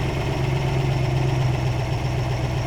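Lamborghini Urraco P250 V8 idling during carburetor adjustment, a loud steady low rumble with an even throbbing pulse, close and unbroken.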